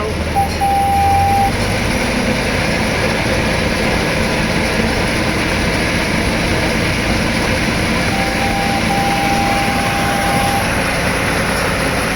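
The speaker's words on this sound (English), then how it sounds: "we're about to gain some so we can get this little train up this hill" A small zoo train at the Vancouver zoo climbs a hill as it gains speed, a loud, continuous rumbling engine drone with a couple of brief tonal whines, no talk over it.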